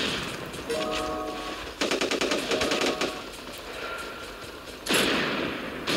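Explosive crossbow shots in the Respawnables game sound as rapid rattling bursts of fire, one long volley in the middle and another near the end, loud and close with the game's ambience underneath.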